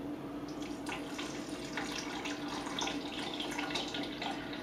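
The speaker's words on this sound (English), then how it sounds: "I'm going to pour this way so you can see how nice and thick this is." Thick homemade tomato juice pouring in a continuous liquid stream, steady and moderately close, with no talk over it.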